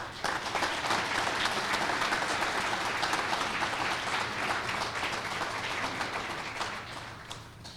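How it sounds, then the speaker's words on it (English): An indoor audience at a police commendation ceremony claps in sustained, fairly close applause for about eight seconds before it tapers off. "So I think they deserve a round of applause."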